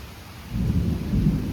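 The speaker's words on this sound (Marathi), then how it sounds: "जोरात पाऊस पडतोय." Dense rain hiss with a deep rumble building after a brief quieter moment, steady and fairly close, no voices.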